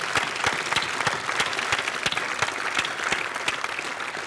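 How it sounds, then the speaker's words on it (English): An audience gives a round of applause at a film Q&A screening, brisk clapping with a few sharp individual claps standing out, sustained at a fairly even level. "I'm going to give you a round of applause"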